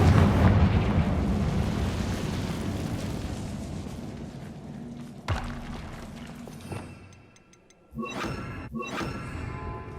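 A blasting spell detonates in the Hogwarts Legacy video game, a loud rumbling explosion that slowly decays, followed by a sharp thud and then a pair of crackling bursts with debris.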